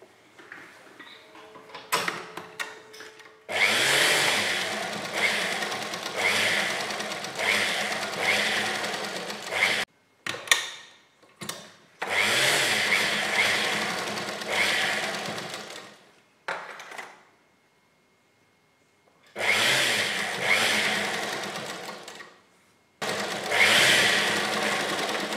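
A sewing machine stitches kurti fabric along a canvas edge in repeated close bursts of rapid mechanical running, several seconds each, broken by short pauses and near-silent gaps.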